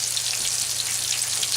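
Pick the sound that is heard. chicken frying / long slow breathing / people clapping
chicken frying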